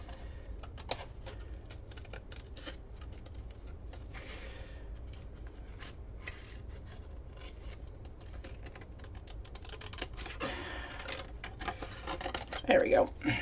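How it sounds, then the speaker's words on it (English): Scissors snip through a photo in quick repeated cuts, close by, while a person talks quietly. "stab in my nice sharp scissors and see if I can't attempt to cut out a rectangle"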